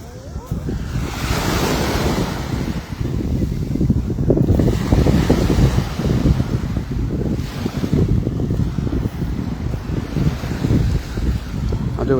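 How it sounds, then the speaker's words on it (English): Surf washing onto the shore of Es Cana Beach in Ibiza, with steady gusts of wind buffeting the microphone, a continuous loud wash with rolling swells and no one speaking. "I'm walking right along the shore, and I've got a decent pair of trainers on, and I don't want to get them wet."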